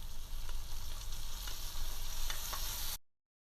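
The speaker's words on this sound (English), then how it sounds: "now we're going to add pineapple and we'll let them saute for a little bit more" Chicken and pineapple sautéing in a pan for a sweet and spicy pineapple chicken, a dense, even sizzle with faint stirring clicks that stops abruptly near the end.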